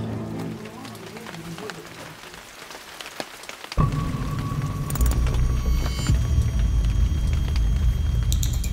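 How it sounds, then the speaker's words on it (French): Rain starts suddenly and pours steadily outdoors onto a surface, a dense close hiss with low rumbling beneath and faint voices. "Voilà, il pleut bien."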